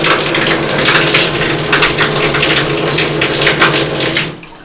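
A shower head blasts water in a hard, hose-like spray, loud and close, a dense rushing hiss that holds steady before dropping off at the end.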